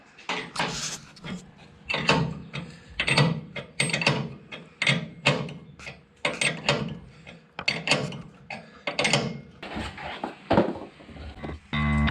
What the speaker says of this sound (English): we're going to do that up just with our hand spanner until we can see the hole for the split pin